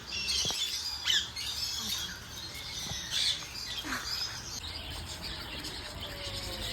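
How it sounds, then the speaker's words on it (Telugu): Parrots calling in an aviary at SV Zoo, Tirupati: scattered high chirps and short squawks rise over a steady, busy hiss of other birds and insects, with no one speaking. "చూడండి ఇక్కడ రామచిలకమ్మ సాంగ్ ఉంది కదా."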